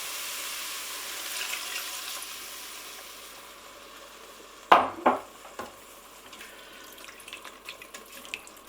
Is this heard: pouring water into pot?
yes